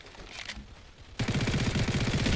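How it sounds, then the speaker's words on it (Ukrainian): Gunfire in the video game Combat Arena: a dense, loud burst of rapid automatic shots erupts partway through and continues steadily, following quieter scattered sounds. "От там стріляєш."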